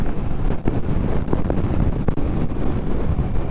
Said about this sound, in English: It is very windy though.